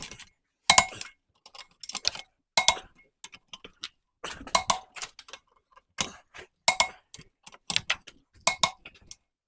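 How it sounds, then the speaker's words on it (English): A torque wrench clicks as lug nuts are tightened on a Jeep Grand Cherokee's rear wheel, sharp metallic ticks arriving in short bursts and pairs separated by quiet gaps, close and clear with no talking. "These call for 110 pound-feet of torque, so set your torque wrench to 110."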